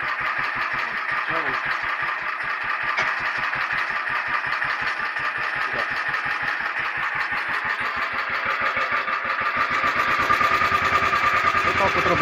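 A Motor Sich walk-behind tractor fitted with a homemade modified potato digger runs steadily, its single-cylinder engine thumping in a fast even rhythm close by throughout, with a slight change in tone near the end.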